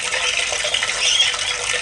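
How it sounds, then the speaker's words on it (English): Water running and splashing steadily down an irrigation channel into a helmet shell, a bright continuous gush close by, with no talking. "Basically the water flows down there"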